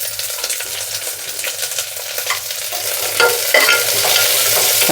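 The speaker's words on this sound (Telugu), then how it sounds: "అన్నీ నెయ్యిలోనే వేయించుతున్నాను" Green chilies, onions and curry leaves frying in ghee for a vegetable khichdi, a bright continuous sizzle with scraping stirring sounds, close and steady, no voices.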